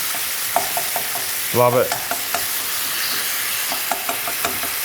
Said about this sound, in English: I'm just still breaking up that mince as we go.